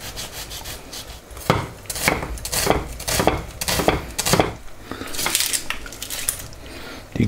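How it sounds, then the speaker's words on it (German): A knife dices onions on a wooden board, irregular crisp cuts coming one after another at close range, with no talking. "Die Zwiebeln schneiden wir in kleinen Würfel zum Anbraten."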